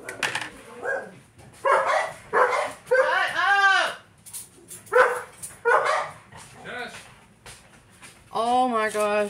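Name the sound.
dogs barking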